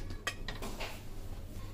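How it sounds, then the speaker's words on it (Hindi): A pressure cooker lid being opened after cooling, holding Old Delhi-style nihari meat stew; a few short metallic clinks and clatters sound close up over a low steady background hum. "कुकर यहाँ अपने प्रेशर में ठंडा हो चुका है, तो यहाँ पर इसे खोल लेंगे।"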